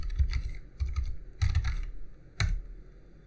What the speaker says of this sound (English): I'm going to open my terminal and I'm going to type in pip